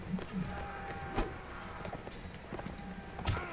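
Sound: horse hooves clip-clopping in video game Mount and Blade: Warband

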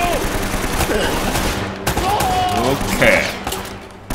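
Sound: machine gun fire in the Uncharted video game

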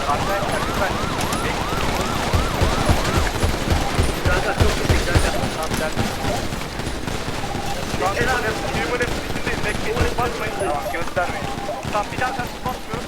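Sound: gunfire in video game FiveM (GTA V)

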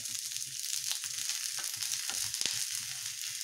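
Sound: corn kernels frying in a pan

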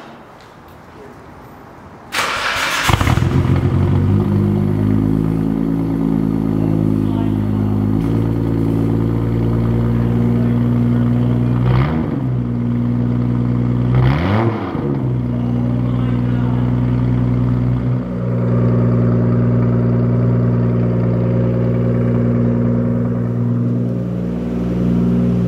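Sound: R33 Skyline GTR cold start with new Tomei titanium exhaust

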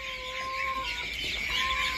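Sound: laying hen chicks cheeping

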